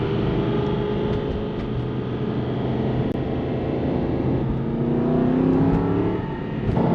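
Deep, loud exhaust drone from a 2007 Aston Martin V8 Vantage with high-flow cats and muffler delete, held steady with a rising rev swell near the end, no talk over it.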